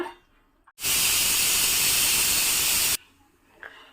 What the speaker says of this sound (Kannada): ನೋಡ್ಬೋದು ನೀವು, ಒಂದು ವಿಸಿಲ್ ಬಂತು